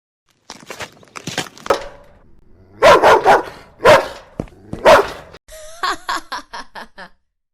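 A dog barks loudly and close in several sharp bursts, spaced irregularly, followed by a quicker series of shorter yelps near the end, with no talk over it.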